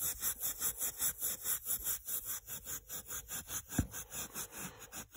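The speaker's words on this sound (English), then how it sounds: "Just rubbing this back and forth." Steady back-and-forth rubbing of a Plymouth mirror being polished by hand, a quiet, even rasping rhythm of about four strokes per second, with one sharp knock midway.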